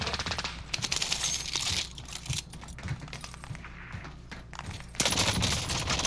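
Gunfire in the Warzone 2 video game: rapid bursts and single sharp shots from a rifle, fairly close and punchy, with a dense volley at the end, clicking sounds between shots and no clear talk.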